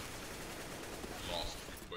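Gunfire in the video game CS:GO forms a dense, continuous crackling barrage that stays fairly quiet and steady throughout, with a faint voice mixed in.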